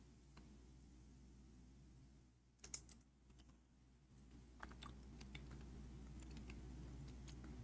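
Typing on a computer keyboard, heard as scattered light key clicks in small bursts over a steady low hum, fairly faint and without speech.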